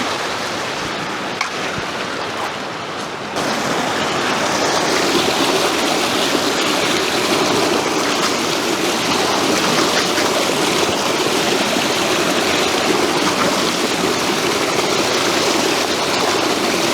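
A mountain stream near the Martuljek waterfalls in the Slovenian Alps rushes over a rocky streambed, a broad steady wash that swells louder after the first few seconds and then holds constant.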